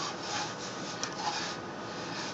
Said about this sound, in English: Now, I start all my sanding in reverse and fairly fast.